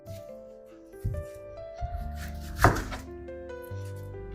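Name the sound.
chopping onions with a knife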